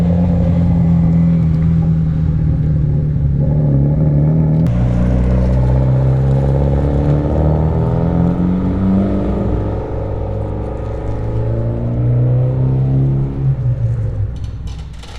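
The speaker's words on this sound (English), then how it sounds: "taking the car for a road test, probably to just make sure part throttle response is dialed in" A 625 wheel-horsepower Mitsubishi Evo 5 running on E85 fuel is driven on a road test. Its loud engine drones close by, then its pitch rises and falls with throttle changes through several gear pulls.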